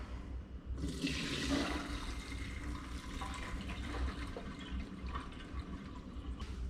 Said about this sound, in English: so now what we'll do is just strain the wheat berries. So we'll grab my pot and we will just pour